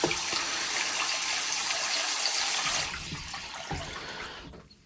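Water rushes and fills during a blocked-pipe test on a Vaillant boiler, a loud steady gush that drops off partway through, leaving quieter trickling and a few small knocks.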